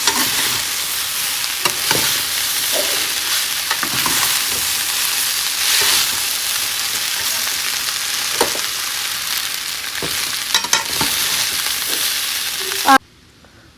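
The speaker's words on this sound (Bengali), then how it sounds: "ভাতগুলো অল্প অল্প করে দিয়ে মিশিয়ে নেব অনেকটা ভাত" Cooked rice is stirred and mixed in a hot pan, a steady close sizzle broken by repeated scraping and tossing strokes, ending abruptly.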